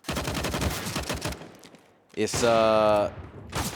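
Gunfire crackles during a Counter-Strike match on the Train map, with a rapid run of shots at the start and a brief burst near the end, alongside a loud tonal game sound in between.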